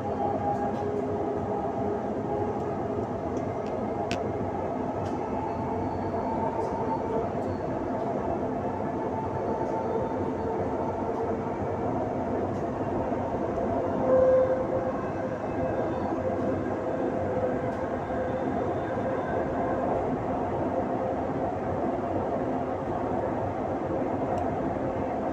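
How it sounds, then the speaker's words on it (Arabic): Dubai Metro Green Line train riding between stations, a steady rumbling and whooshing of the carriage heard from inside, moderately loud and continuous with faint clicks and no break. "The final destination of this train is Etisalat by Ian."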